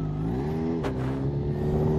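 A Kawasaki H2 motorcycle engine revs steadily up close, loud and continuous with a rising harmonic drone and a brief sharp blip of throttle midway, no talking.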